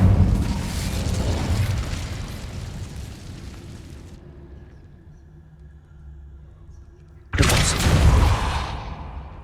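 Incendio fire spell cast in Hogwarts Legacy, a loud roaring burst of flame that dies off after about four seconds, then a quieter hum before a second roaring blast erupts.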